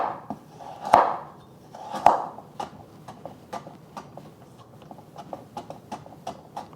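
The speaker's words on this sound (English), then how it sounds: "I'm using half a carrot that I'm going to julienne." A knife taps on a cutting board as half a carrot is cut into julienne strips: two loud chops, then a quicker run of lighter, evenly spaced cuts, close and alone.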